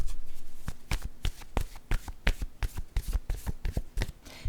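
Tarot cards are shuffled and drawn by hand close up: a quick run of crisp riffling slaps and taps in uneven bursts, with soft pauses between them.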